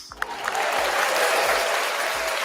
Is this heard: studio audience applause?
yes